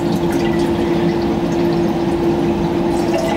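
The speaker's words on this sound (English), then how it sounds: "I pour water into the stainless steel container." Water pours steadily into a stainless steel container with a continuous gushing rush and a ringing hum, loud and close, no talking, while preparing flat latex paint.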